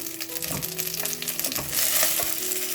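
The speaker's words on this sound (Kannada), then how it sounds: "ಒಂದು ನಿಮಿಷ ಇದನ್ನು ಫ್ರೈ ಮಾಡ್ಕೊಳ್ಳೋಣ" Eggplant pieces sizzling and frying in a pan over low flame, a steady crackling hiss with occasional stirring clatter throughout, close and fairly loud, no voices.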